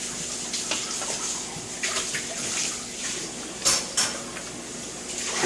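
A dish and fork clink and rattle while space is cleared at a kitchen counter, with a few sharp ceramic and metal knocks over a steady wash of running water.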